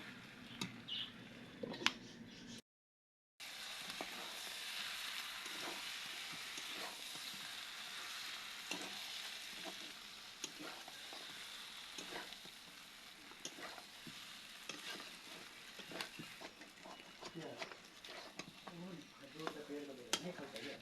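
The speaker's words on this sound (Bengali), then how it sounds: "আমি অনেকক্ষণ ধরে কষে যাচ্ছি ঢাকা দিয়ে দিয়ে" Mutton and potatoes braise under a lid in a pot, giving a faint, steady sizzle with scattered soft clicks and scrapes. The sound drops out briefly early on, and there is a hint of voice in places.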